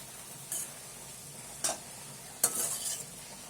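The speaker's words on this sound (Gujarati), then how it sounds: "થોડીક વાર આ રીતે લીલું લસણ સાંતળી નાખશું" Green garlic sautéed in a pan, heard as a few short, separate stirring scrapes with a light sizzle over a quiet background.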